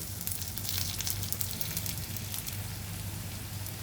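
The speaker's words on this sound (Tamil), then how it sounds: "பார்த்திங்கன்னா வெங்காயம் கொஞ்சம் நல்லா வதங்கிடுச்சு" Shallots and garlic frying in oil for kollu kulambu, a steady soft sizzle with fine crackling throughout, close and fairly quiet with no talking.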